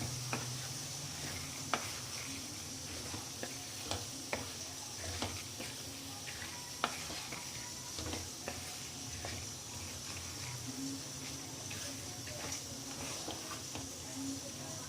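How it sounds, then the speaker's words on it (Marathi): Moth beans being stirred in a cooking pan, with soft sizzling underneath and scattered light scrapes and taps of the spoon against the pan, fairly quiet and close. "तर आता यामध्ये आपण ही मोठ टाकून घेऊया आणि याला सुद्धा मिक्स करून घ्यायचं छान."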